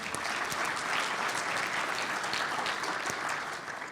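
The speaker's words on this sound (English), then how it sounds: "Big round of applause for her." A conference audience gives a sustained round of applause, dense even clapping filling the room at moderate volume and tapering slightly at the end.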